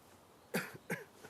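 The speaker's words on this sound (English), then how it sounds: "Oh, he's got a cough." A character in Nioh 2 coughs twice, close and fairly quiet, a short rough burst followed by a second cough, then near silence.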